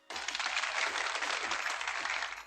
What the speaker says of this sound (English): Give him applause